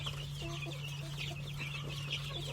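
Australorp chicks and grown chickens cluck and peep softly in a coop, with short high chirps scattered over a steady low hum, no talk.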